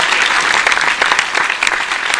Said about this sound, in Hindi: तो एक बार तो तालियां बजा दो यार बांके बिहारी के नाम पर।